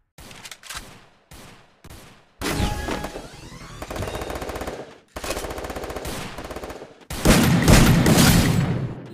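Rapid automatic gunfire from a Thompson-style gun on a video game training ground, several short bursts early on, then longer sustained loud volleys, close and alone without talk.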